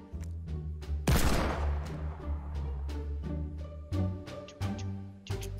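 Gunshots ring out in a Fortnite fight, one heavy blast followed by several sharp, separate shots spaced irregularly over a musical background.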